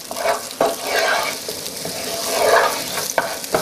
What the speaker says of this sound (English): The longer that onion cooks, really the sweeter it gets, so we can keep it going for quite a while. Let's give it a good stir.